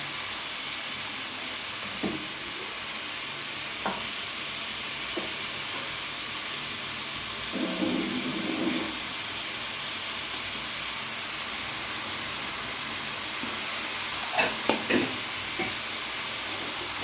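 Fennel seeds crackle and fry in hot oil for a toddy-shop style boti curry, giving a steady close sizzle with scattered pops and a brief denser burst of spattering partway through, with no voices.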